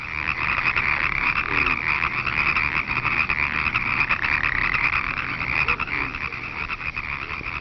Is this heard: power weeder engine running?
no